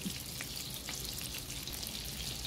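A rib eye steak fries in a pan with a steady, dense sizzle and crackle, close and unbroken throughout, with no talk over it.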